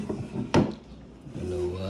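A wooden vanity drawer slides with a single short scrape and knock, close by, followed by a faint low rumble in a quiet room.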